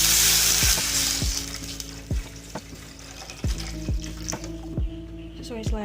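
Water poured onto sautéed ground spice paste in a pan, a loud hissing sizzle at first that fades, followed by repeated utensil clinks and stirring sounds.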